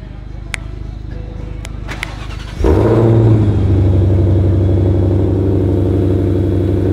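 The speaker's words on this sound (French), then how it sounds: "Je vais claquer des doigts, on va allumer la voiture." Car engine firing up after a quiet stretch with brief snaps, then settling into a loud, steady idle rumble with a slight revving swell, close by on a Monaco outing.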